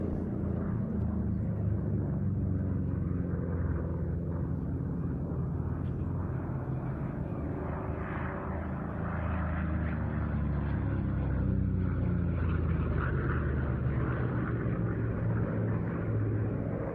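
A WWII propeller fighter, a P-47 in 48th Fighter Group colours, drones as it flies at a Duxford air show, making a steady distant rumbling engine roar that holds for the whole stretch with no talk.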